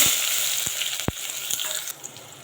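Onion and curry leaves sizzle in hot oil in a pan for Marathi masale bhat, a steady loud frying hiss with a few sharp pops and stirring knocks, no voices.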